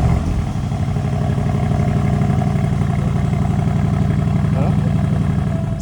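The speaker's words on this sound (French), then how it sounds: "On a même entendu le son moteur, mais c'est encore un prototype donc c'est pas le son définitif." A prototype of the new Aston Martin Vantage sits with its engine running steadily at a low, even idle throughout, heard fairly close and loud over Monaco street ambience, with faint background voices.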